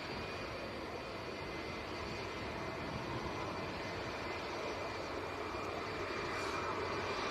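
A departing airliner at Manchester Airport gives off a steady, distant, broadband jet roar that holds even throughout, with no voices.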